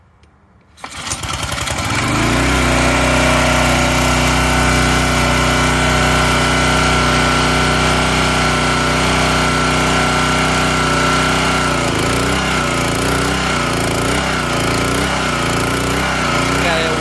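A Honda GCV 160 small engine fires up and runs loud and close with a steady high drone, its note wavering and surging in the last few seconds.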